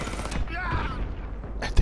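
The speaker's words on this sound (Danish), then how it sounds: "Hvor er det så meget skud for?" Gunfire in the shooter Warface is a mechanical, rattling burst of shots within ongoing game noise, with a sharp crack at the very end.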